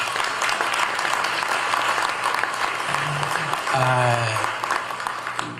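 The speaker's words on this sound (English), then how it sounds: "That deserves a round of applause." Sustained applause from a large crowd at Birmingham's State of the City address fills the space, loud and steady, with a voice briefly speaking over the clapping near the end.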